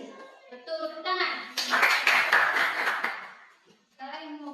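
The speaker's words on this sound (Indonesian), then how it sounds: "Betul, tepuk tangan." Children in a classroom break into a burst of hand clapping that lasts about two seconds, loud and dense. A teacher talks and asks questions before and after it.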